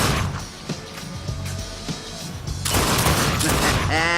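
Shotgun blasts in the video game The Darkness 2 sound in a rapid series of sharp, loud reports, growing denser and heavier toward the end, with no talking.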